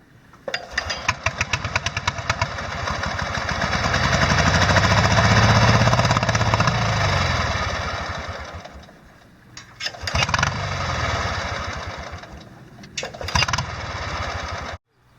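A tractor engine chugs and rattles nearby, revving up and down in uneven surges before dropping off briefly and running again.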